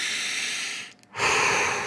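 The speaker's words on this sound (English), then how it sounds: "take a deep breath in and a deep breath out" A deep, audible breath drawn in and let out again, close and unhurried, with a soft airy hiss on each phase and a brief quiet pause between them; no talking.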